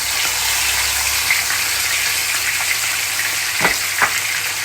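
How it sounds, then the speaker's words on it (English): Escovitch fish frying in heated sunflower oil, a loud, steady sizzle close by with a couple of brief pops or stirs near the end and no talking. "So this is placed into heated sunflower oil. And we're going to fry them until they're nice and crispy"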